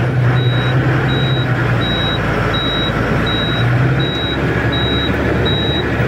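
A loaded truck carrying ten tonnes of goods pulls out, its reversing alarm beeping in a steady, evenly spaced rhythm over a loud, continuous diesel engine rumble.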